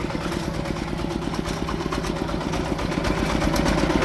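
A walking tractor fitted with big wheels driving slowly through swamp mud, its small engine chugging steadily and loudly throughout, close by with no talking.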